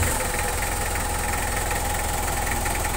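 A Mitsubishi Kuda Grandia diesel engine runs steadily with a dense, rough idle and knocking clatter, close and loud throughout, with no clear start or stop heard.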